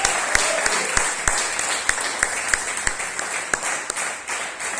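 A church congregation during a sermon applauds with dense, continuous clapping, with a few sharp, prominent claps from nearby hands standing out at an uneven rhythm.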